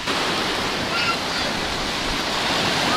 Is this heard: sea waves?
yes